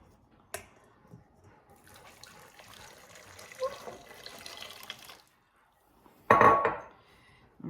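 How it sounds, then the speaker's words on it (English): Two cups of water poured into Jello mix for a strawberry pretzel salad in a kitchen, a faint trickle and splash with light clinks of glass, ending in a louder burst of pouring water. "we are going to add 2 cups of water to the Jello."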